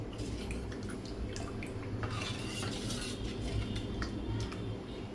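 Salt being stirred into a rice flour batter with a spoon for traditional ghavan, soft wet scraping and light clinks against the bowl, fairly faint and continuous, with no talk.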